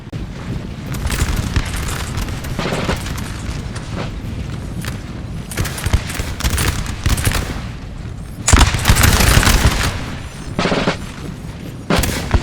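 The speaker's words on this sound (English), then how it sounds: "Give us a volley for the fatherland" Infantry fire off musket volleys in a Napoleon Total War multiplayer battle, heard as a continuous crackle of shots with heavier booming bursts near the middle and end, loud and with no speech.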